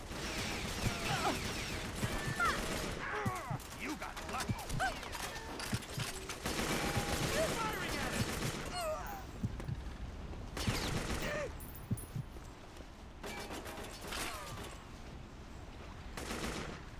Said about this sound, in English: I don't know where they're shooting from.